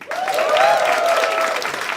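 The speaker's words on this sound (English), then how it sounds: "give us a round of applause" A live comedy podcast audience in Sydney applauds loudly and steadily, with scattered cheers and whoops rising above the clapping.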